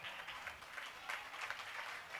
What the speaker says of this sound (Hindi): जोरदार तालियों द्वारा स्वागत।